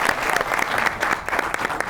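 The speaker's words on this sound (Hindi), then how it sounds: "इनके लिए जितनी भी ताली बजाए वो बहुत कम है।" Studio audience applauding a senior guest on a Pakistani comedy talk show, a steady dense wash of clapping close by with no voices over it.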